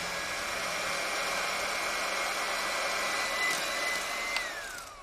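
Advocaat being whisked into eggnog cream with what sounds like an electric whisk: a steady, close motor whir and hum that runs unbroken for several seconds and dips in pitch near the end.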